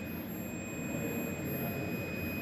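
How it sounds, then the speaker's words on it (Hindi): A digital multimeter gives its continuity-test beep on a wire, a single unbroken high electronic tone held steadily throughout. "ये जो बीप जैसा जो साउंड दिख रहा है, तो बीप जैसा साउंड जो दिख रहा है, इसका मतलब है कि वायरिंग हमारा सही है"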